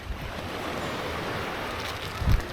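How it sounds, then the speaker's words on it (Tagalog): Strong wind and rough waves at sea make a continuous roaring wash with low rumbling gusts, swelling briefly near the end, and no one speaking. "Kaso nga lang lakas ng hangin, ay ng alon maalon."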